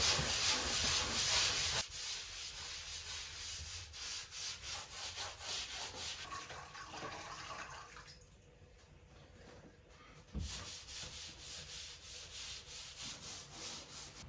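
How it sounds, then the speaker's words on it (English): Repeated rhythmic rubbing and scraping strokes of wet sanding drywall, close and moderately loud, pausing briefly before resuming the back-and-forth sanding motion. "Once I was done wet sanding"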